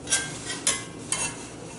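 Spoon stirring alfredo sauce as it melts in a pan over heat, three brief scraping swishes close by over a steady low background, with no talking.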